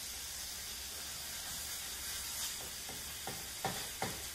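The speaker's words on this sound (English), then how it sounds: "The water's boiling." Water boils in a pot for hot dogs, giving a steady low bubbling hiss with a few sharper splashy pops toward the end, fairly quiet and with no talk.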